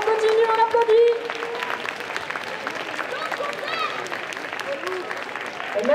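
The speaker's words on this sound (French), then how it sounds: "allez, on continue, on applaudit." Audience clapping for cosplay contest winners and participants at a prize-giving in Strasbourg, a steady wash of applause from a crowd with a presenter and other voices talking over it near the start.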